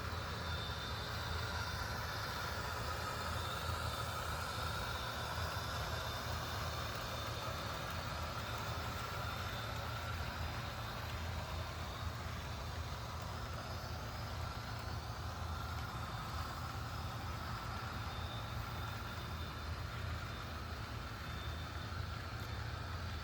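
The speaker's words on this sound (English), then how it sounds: "It seems to be handling this train with no issue at all" A steady mechanical rumble and whir of an Athearn Genesis ES44AC model locomotive motor pulling a train continuously, with a faint high whine and clicking underneath, close and even throughout.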